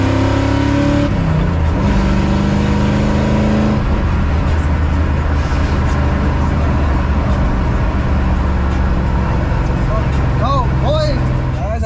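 A 1994-2004 Ford Mustang drives hard through turns, its engine droning loud and steady from inside the cabin with tire noise, while someone talks over it throughout.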